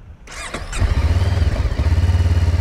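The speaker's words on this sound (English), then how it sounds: "I'll just fire the bike up and you can hear the exhaust." A Voge 500AC motorcycle cranks and fires up close, then settles into a loud, steady, pulsing idle with a deep exhaust note.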